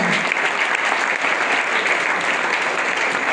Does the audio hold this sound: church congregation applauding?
yes